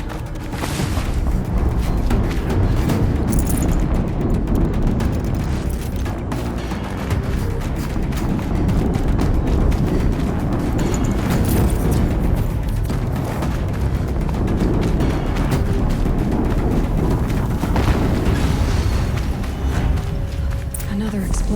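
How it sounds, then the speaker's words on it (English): Game explosions from Horizon Zero Dawn (2017): continuous heavy booming and rumbling with repeated blast surges, loud and dense across the whole stretch, with a voice talking over it at times. "Another explosion."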